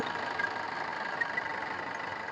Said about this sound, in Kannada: ಯಾವ ಗಾಡಿ ಇಂಜಿನ್ ಸೌಂಡ್ ಇಲ್ಲಿ ಕೇಳಬಹುದು